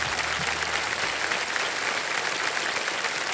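Studio audience applause on the Indian quiz show Kaun Banega Crorepati, loud and continuous clapping from a full crowd, with a brief low tone at the start.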